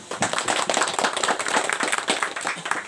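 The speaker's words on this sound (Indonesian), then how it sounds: "beri tepuk tangan untuk kita semua" A crowd applauds steadily, dense clapping from many hands that holds at an even level throughout.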